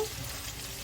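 Sausage sizzling and frying in a pan with a pinch of pink Himalayan salt, a steady close crackle filling the short moment without any talking.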